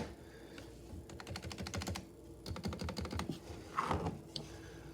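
Fingers type on a compact 60% Ducky One 2 Mini keyboard with silent red switches, producing rapid bursts of soft, muted keystrokes in close, quiet succession with short pauses between runs.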